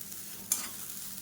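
Grated coconut and coriander sautéed and stirred in a pan for Tamil thuvayal, a soft sizzle with one brief scrape of the spoon, close and quiet.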